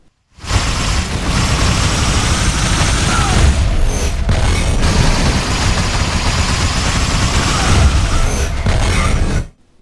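Warp rifle black holes tearing through enemies in the shooter Fuse: a loud, sustained roar of booming rumbles and crackling blasts that fills the whole stretch, with brief dips between bursts.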